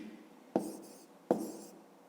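Two short scratchy pen or marker strokes on paper or a board while working out a fifth-grade division problem by hand, each a quick near scrape with a brief trailing hiss, separated by a pause, no talk.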